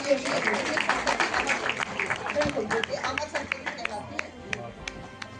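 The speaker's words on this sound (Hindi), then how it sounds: "एक बार जोरदार तालियां।" A poetry festival audience breaks into applause, a crowd of many hands clapping loudly at first and then thinning to scattered, slower claps, with murmured voices underneath.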